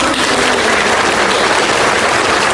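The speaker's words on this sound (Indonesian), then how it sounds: "Kita harus beri tepuk tangan." A dense burst of loud applause from a podcast studio audience for university student guests, steady and close throughout with no talking.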